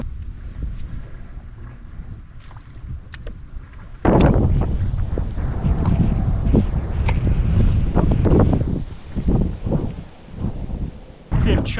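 Strong wind buffeting the microphone on a lake at Parker, Arizona, while smallmouth fishing, a steady low rumble that surges louder partway through with choppy gusts and water noise.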